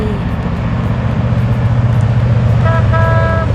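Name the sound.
mining haul truck horn honking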